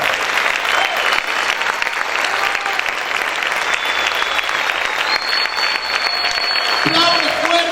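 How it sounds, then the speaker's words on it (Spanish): A church congregation breaks into loud, sustained applause for the King. Dense continuous clapping fills the room, and shouting voices rise within it toward the end. "Aplaude fuerte al Rey."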